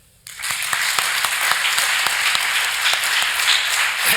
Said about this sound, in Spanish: lo primero que os voy a pedir es un aplauso para Mariano, como presidente de la Federación